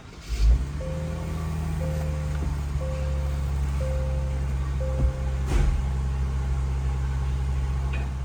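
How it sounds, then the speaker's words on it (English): A 2022 Genesis GV80 starts with a brief crank, then settles into a steady, low idle hum nearby, with a faint repeating electronic chime in the first few seconds. "I'm gonna turn the vehicle on."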